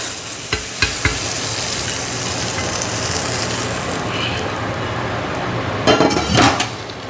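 Butter melting and sizzling over hot blanched vegetables, a steady frying hiss with a few sharp clinks and taps of utensils against dishes, close up.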